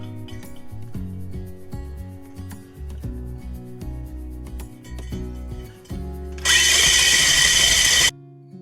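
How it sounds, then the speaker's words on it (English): A power drill whirs into a loud, harsh grinding burst lasting under two seconds while fitting out a tiny house, preceded by quieter tonal clatter and low rumbling. "It's just a fantastic little drill, isn't it?"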